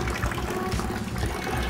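Water runs steadily from the tap of an instant electric water heater, a constant hissing, splashing flow heard close and alone.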